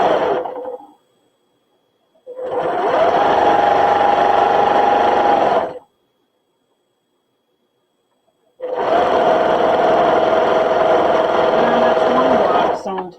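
A domestic sewing machine stitching quilt blocks together runs in two long, steady bursts, loud and close, with a quiet pause between them.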